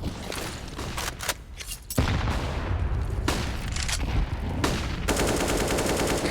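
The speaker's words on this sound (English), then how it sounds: "So much utility just being unloaded here in mid. We got the smokes, the flashes, the frags" Dense gunfire and explosive blasts from Counter-Strike on the Mirage map, with smokes, flashbangs and frag grenades thrown in mid, rapid rifle bursts building to loud sustained firing and booms with no voices.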